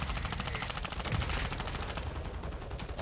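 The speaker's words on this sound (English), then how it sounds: "Look back at him and shoot him." Rapid automatic gunfire in a video game, a dense, loud stream of closely spaced shots rattling continuously for about three seconds with no talk over it.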